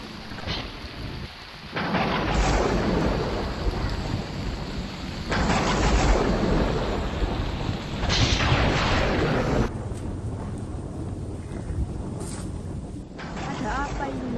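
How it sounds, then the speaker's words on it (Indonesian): Heavy rain pours steadily in a school drama sound effect, with rolling thunder rumbles swelling and fading across the scene, loud and close, and short voice sounds come through near the end. "Tiba-tiba langit menjadi gelap dan turun hujan yang sangat deras disertai petir."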